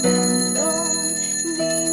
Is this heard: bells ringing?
yes